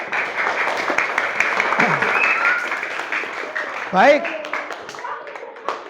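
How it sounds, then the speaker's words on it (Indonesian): A sixth-grade Islamic studies class applauds together, a busy patter of clapping with voices talking over it and a brief spoken word partway through. "tepuk tangan untuk kita semua."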